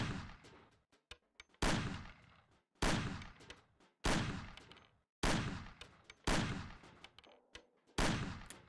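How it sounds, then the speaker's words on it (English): Gunshots fire at cans on a table in the video game Mafia: seven or so loud, evenly spaced single shots, each a sharp crack followed by a decaying echo, with no voices. "Shoot the cans off of the table."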